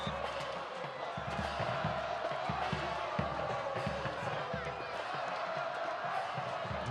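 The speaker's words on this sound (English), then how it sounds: "It looks like the Trotwood Madison crowd is really behind their team" Spectators at a 2010 OHSAA Division 2 regional semifinal high school football game, Winton Woods vs. Trotwood Madison, make a steady roar of crowd noise and cheering throughout, with a bouncing, thumping rhythm underneath.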